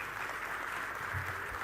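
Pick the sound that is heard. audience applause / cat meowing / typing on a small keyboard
audience applause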